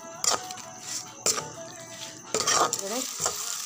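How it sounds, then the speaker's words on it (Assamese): Spoon stirring chaat masala into meat frying in a pan, with steady sizzling under three loud scraping stirs at the start, middle and near the end. "নেক্সট দিছোঁ মই চাট মচলা দিছোঁ এইখিনি মই অলপদৰি ভালদৰে মিলাই"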